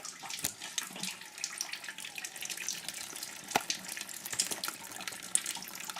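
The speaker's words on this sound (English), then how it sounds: "Water is running on top of it." Steady sparge water running over grain during home brewing, a hissy, splashing wash, constant throughout with occasional small drips and clicks; no voices.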